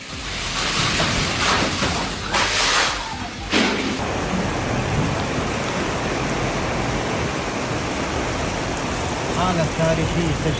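Heavy rain pours down in a severe storm in western Saudi Arabia, a dense steady roar of water, with a few louder gusty surges in the first seconds and a faint voice underneath.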